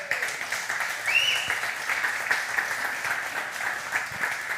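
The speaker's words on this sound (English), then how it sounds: "Also, clap for the band one more time, too." A church congregation claps for the band, steady applause from a mid-sized crowd with a whistle rising briefly near the start.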